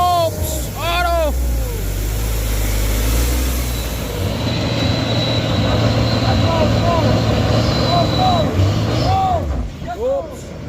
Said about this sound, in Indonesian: Ini alat berat menarik kren 42 ton ya bosku.